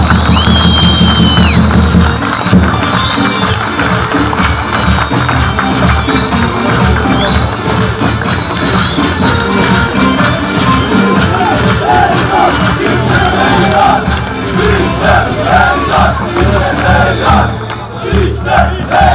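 A large crowd at a neighbourhood campaign gathering in Adana roars, chants and applauds for mayoral candidate Zeydan Karalar, loud and sustained for nearly twenty seconds, with music and shouted voices mixed into the din.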